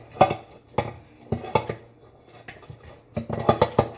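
Butter is spread around a metal cake tin with a utensil, giving sharp scraping clinks in small bursts separated by short pauses, close and fairly quiet.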